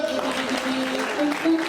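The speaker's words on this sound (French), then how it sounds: "Et on applaudit très fort pour les deux" Applause at a school award ceremony honouring the top students of a class, a crowd clapping steadily in a hall while a voice speaks over it on a microphone.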